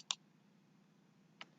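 Two light, isolated keyboard key clicks about 1.3 seconds apart, close and crisp, as a Ctrl+O shortcut is pressed on a computer keyboard; otherwise quiet with a faint hum.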